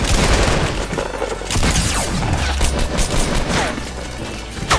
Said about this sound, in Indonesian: Kayaknya orang nembakin kita dari atas deh.